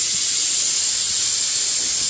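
A pressure cooker whistles steadily as it vents steam while beef and rice cook for a beef mandi, a continuous loud hissing jet that holds unbroken from start to finish with no talk over it.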